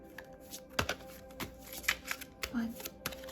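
Tarot cards being shuffled by hand, giving a few soft, close riffling and slapping bursts with short pauses between them.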